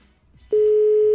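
After a brief moment of faint background noise, a steady single-pitched telephone ringing tone starts and holds continuously.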